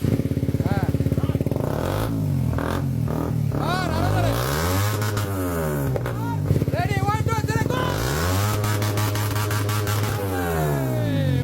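A Suzuki GSXR motorcycle fitted with a modified exhaust revs repeatedly, rising and falling in loud swooping pulls with a throaty idle between them, close by and up front.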